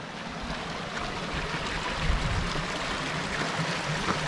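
Spring water from Gardunha mountain runs in a continuous broadband rush, close and steady, with no speech over it.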